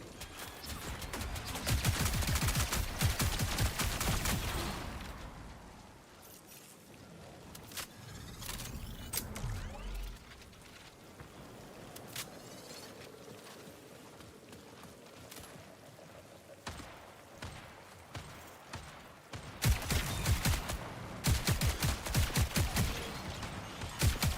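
A turret fires in the shooter game Marathon, with dense bursts of rapid gunfire at the start and again at the end, and quieter scattered shots and clatter in between.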